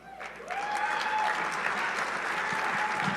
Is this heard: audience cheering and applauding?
yes